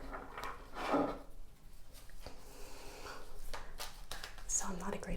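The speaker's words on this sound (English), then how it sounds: "So I'm not a great shuffler," Tarot cards being shuffled by hand in a quiet indoor setting, giving soft rustling and riffling bursts with faint rubs and taps, close to the mic and gentle throughout.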